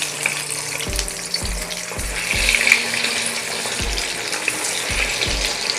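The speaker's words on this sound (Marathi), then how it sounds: "आता ना एक एक वडी घ्यायची आणि तेलामध्ये टाकायची." Pieces of crispy methi vadi are dropped one at a time into hot oil over a medium flame, and a steady, fairly loud frying hiss rises with soft, regular splashing thumps as each piece goes in.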